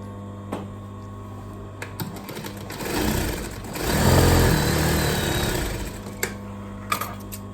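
A sewing machine stitches skirt fabric, its motor running in a close, steady whir that builds and fades across the middle, with a few clicks and taps before and after and no talking.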